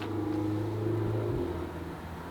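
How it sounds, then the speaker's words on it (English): An Audi R8 sports car drives past, a low engine drone and rumble that swells and then fades after about a second and a half, moderately faint. "this cool Audi R8 that constantly goes by"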